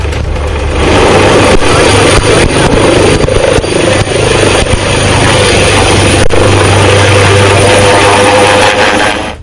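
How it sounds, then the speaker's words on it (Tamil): A helicopter setting down on a makeshift helipad at an outdoor event in Kalaburagi district, its rotor and engine roaring loud and close with a steady whirring beat and windy rush throughout, no voices. "ஹெலிகாப்டர் தரையிறங்கும் வேகத்தில் அருகில் கிடந்த பிளாஸ்டிக் பொருட்கள், பிளாஸ்டிக் பைகள் காற்றில் பறந்தன."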